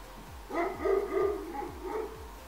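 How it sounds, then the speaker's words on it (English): A dog barks repeatedly in a steady series of sharp, moderately loud barks, roughly one every half second, in an indoor setting with no talk over it. "Can you control your dog?"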